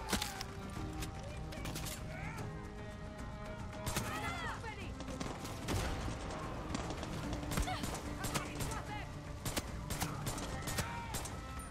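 Gunfire in the shooter game Far Cry 6, with sharp repeated shots and bursts scattered over a busy mix of horse hooves, whinnies and other game sounds, while people talk over it.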